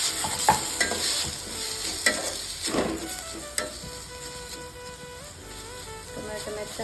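Tomato and onion fry in oil as a spoon stirs and scrapes the pan, giving a busy close sizzle with irregular knocks, settling into a softer steady hiss toward the end.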